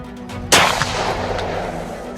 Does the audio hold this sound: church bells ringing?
no